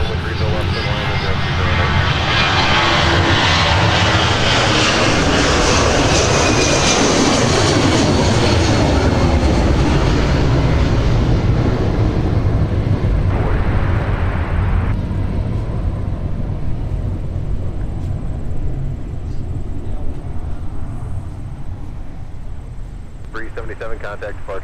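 A jet airliner with Pratt & Whitney PW2000 engines smoking on takeoff from runway 30 left at Minneapolis–St. Paul airport, a loud sustained roar that swells and then fades as it departs, with a voice talking over it.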